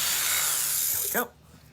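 A drill bit bores into an epoxy-coated wooden tray with a short, steady high-pitched whir that winds down and stops abruptly after about a second, fairly quiet and close.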